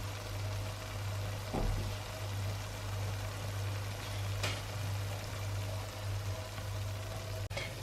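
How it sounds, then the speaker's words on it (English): Water poured into a pot of lamb curry (naan gosht) makes a steady, even rushing hiss that runs unbroken from start to finish, with a low hum underneath. "We're now ready to add in the water."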